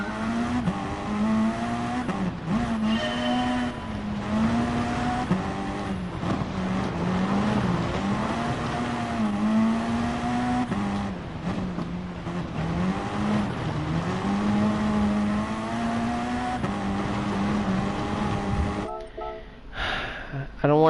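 A race car in GT Sport runs on a dirt track with traction control off, its engine droning steadily with rising and falling revs close up for about twenty seconds while someone talks over it.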